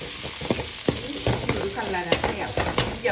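Curry leaves and onion frying in a pan of hot oil with whole spices for village-style chicken pulimunchi, a steady sizzle broken by sharp stirring scrapes and clinks at irregular intervals, close and fairly loud, no talk.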